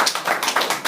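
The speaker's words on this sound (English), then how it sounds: "I will give you a round of applause." Brief clapping at an Igbo community gathering: a few sharp, evenly spaced hand claps in quick succession, close and fairly loud.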